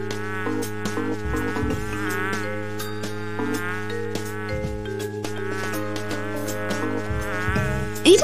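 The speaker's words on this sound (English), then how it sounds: "It's buzzing" Insect buzzing like a fly in the point-and-click game Lucy Dreaming, a steady drone running the whole time beneath layered game music with sustained tones.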